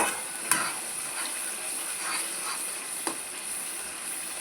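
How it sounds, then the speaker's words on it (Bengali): Onion and tomato paste fries in a pan for chicken rezala, with a steady sizzle and occasional sharp scrapes and clinks of a spoon stirring against the pan, close and without talk. "এগুলো ভালো করে আমি একটু ভেজে নেব।"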